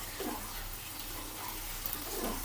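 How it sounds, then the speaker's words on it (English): Couscous poured into a pot of boiling water and stirred on the stove: a steady soft wash of bubbling and rushing water with faint grainy swishes, close, quiet and continuous, no talk. "what I need to do is just to pour in the couscous like so. After that, just stir"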